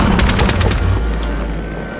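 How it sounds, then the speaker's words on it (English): Rapid bursts of gunfire from a plane in modded Minecraft rattle out loud and close for the first second, then give way to a steady engine drone. "Shooting."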